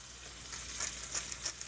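A burger patty sears in a hot oiled pan with a faint, steady sizzle and soft crackle, quiet and continuous with small pops here and there.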